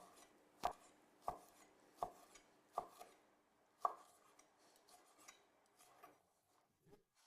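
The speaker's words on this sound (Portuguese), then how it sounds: "agora eu vou cortar o bacon em pedaços pequenos" A knife chops bacon into small pieces on a cutting board during preparation of boeuf bourguignon: a series of about seven sharp, close, distinct thuds at irregular intervals, fairly quiet, with no talking.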